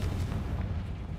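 A Confringo fire spell blast in a video game, a dense, sustained low rumbling explosion that rolls on without a break, loud and close.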